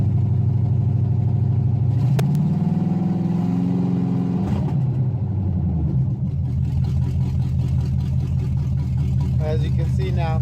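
A 1991 GMC Sierra throttle-body-injected engine gets a blip of throttle, the low idle rising into a revving hum and settling back down, close up, with someone talking over the later part.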